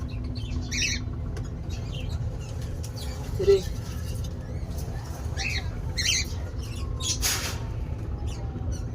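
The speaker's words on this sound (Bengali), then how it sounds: "এই যে আমাদের পাখি, হ্যাঁ এই যে আমাদের পাখি, আরেকটা পাখি কোথায় আমাদের?" Pet birds give short squawks and chirps several times over a steady low hum, with a person speaking briefly between the calls.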